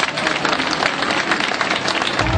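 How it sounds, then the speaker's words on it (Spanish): An outdoor festival crowd in Casablanca, Chile applauds loudly before a concert, dense clapping filling the short moment from start to finish. "les pido un aplauso muy grande para ellos"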